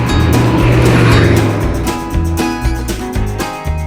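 An off-road truck fitted with custom-valved King shocks drives off, its engine loud and close with a rough, throbbing roar and several revving surges, heard alone without talk.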